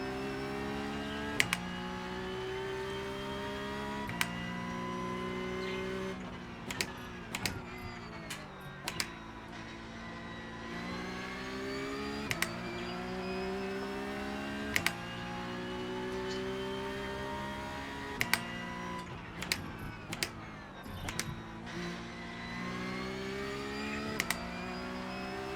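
Porsche Cup Car (992.2) race engine in iRacing, a steady high-revving flat-six drone with rising pitch sweeps and sharp drops at each gearshift, continuous and close throughout.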